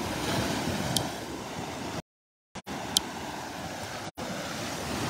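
Ocean waves wash steadily onto the beach at Delnor-Wiggins on a windy morning, a continuous broadband surf roar with wind buffeting the microphone, interrupted by two brief dropouts of silence.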